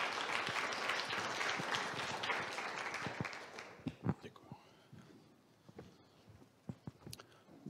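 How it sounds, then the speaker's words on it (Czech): Applause from a conference audience at the Czech Ministry of Culture, greeting the deputy minister of culture. It starts dense and steady, then thins after about four seconds into scattered claps with some voices. "Každý řečník si rozhodně zaslouží svůj potlesk"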